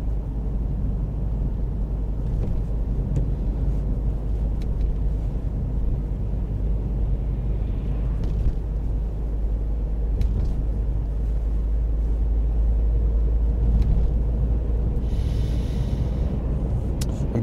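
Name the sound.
car driving on a B road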